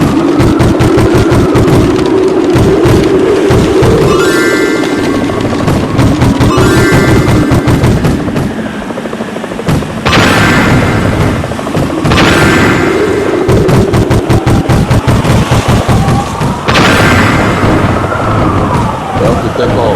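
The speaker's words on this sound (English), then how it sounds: "you have to be very careful because bullets will be coming from different places" Gunfire and explosions in a carrier aircraft jet fighting VR game: a constant low engine drone with heavy booming blasts around the middle and end, and sharp cracks scattered throughout.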